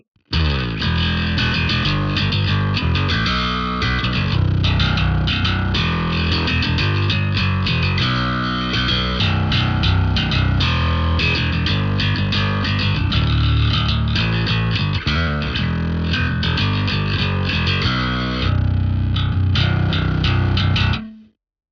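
An Ibanez BTB605MLM bass guitar on its bridge pickup, played through heavy distortion, gritty and sustained, with a continuous riff filling the whole stretch before cutting off.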